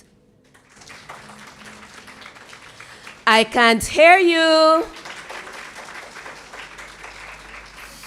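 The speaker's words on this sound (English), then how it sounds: "Future RNs, give yourselves a round of applause." Graduating nursing students at a pinning and award ceremony applaud in a short, loud burst of clapping that rises abruptly and cuts off after under two seconds, with speech before and after it.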